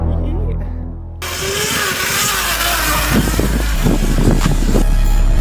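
A dirt bike engine wheeling outdoors, a loud steady roar that rises as the throttle opens, with wind buffeting throughout.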